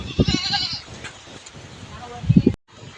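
A goat bleats nearby in a couple of short, wavering calls, with faint background voices and a brief dropout near the end.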